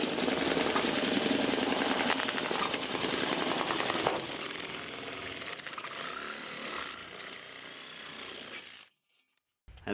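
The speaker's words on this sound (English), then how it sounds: "it turns your drill or your impact driver into a tin snip for cutting this metal sheeting" A loud, rapid mechanical chatter of a drill-driven snip attachment cutting metal sheeting, steady and harsh, easing slightly midway before stopping abruptly near the end.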